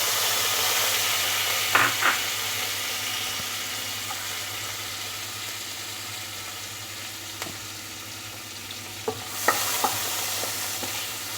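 Chopped onions frying in oil left over from salted hilsa, a close, steady sizzle and crackle with a few sharp utensil taps against the pan.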